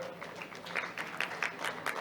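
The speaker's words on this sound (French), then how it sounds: "On va applaudir ces moments, s'il vous plaît" Applause from an audience at an investment signing ceremony in Côte d'Ivoire, quiet and fairly distant, with irregular bursts of clapping rising and falling over a steady wash of room noise.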